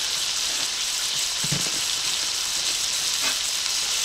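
Ground beef for hamburger gravy frying in a skillet, a loud, steady broadband sizzle throughout with a couple of soft scrapes as the meat is broken up.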